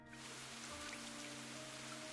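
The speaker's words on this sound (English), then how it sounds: "The resounding noise of droplets hitting the concrete crescendos as the rain continues to fall." Steady rain falls onto concrete outdoors, a dense continuous patter of droplets that stays even and fairly loud throughout with no voices.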